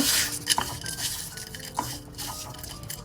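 Mashed potato bhorta ingredients mixed with mustard oil in a bowl, a spoon scraping and clinking against the bowl in irregular knocks and rattles, close and fairly loud with no talking.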